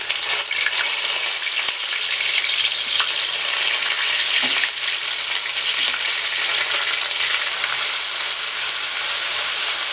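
Two medium onions sautéing in hot oil with carom seeds for bhindi do pyaza, a loud continuous frying hiss with soft stirring scrapes and no voices.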